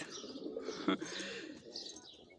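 Pigeons coo softly in a low, rolling murmur, with a brief flutter or thump midway and faint chirps above.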